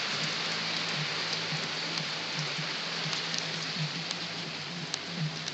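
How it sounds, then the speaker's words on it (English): Hail comes down during a thunderstorm. A dense, steady hiss of many small impacts carries on throughout, with scattered sharper ticks and faint low thuds standing out from the constant clatter. "I know, and it's even hailing."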